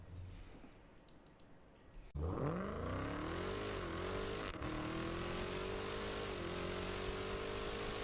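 On a drag strip running 101 octane gas, a Dodge Demon launches hard against another car: after a quiet lead-in, a sudden loud engine roar rises in pitch through a gear change and keeps screaming down the track.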